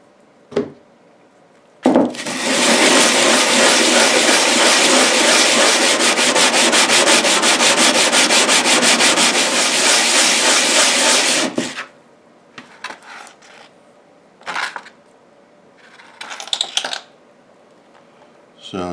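Steady, loud abrasive rasping as a 3 lb silver nugget is sanded with 100 grit sandpaper, running continuously for about ten seconds before stopping, followed by a few short scrapes and clicks.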